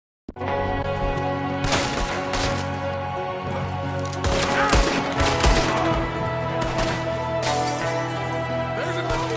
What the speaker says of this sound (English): There's another one shooting from a window